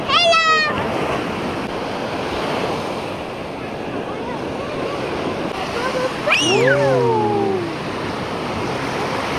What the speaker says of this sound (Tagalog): Sarap po lakas ng alon.